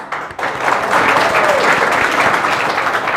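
A crowd in a hall bursts into loud, sustained applause to welcome a speaker at a success-story gathering. Dense clapping swells within the first half second and holds steady and close for the rest of the clip, with no voices over it.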